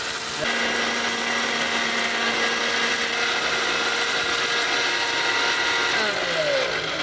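A Ricco blender grinding turmeric to a fine powder runs as a loud, steady, high-pitched motor whine that holds at constant strength and begins winding down near the end, with no voice over it.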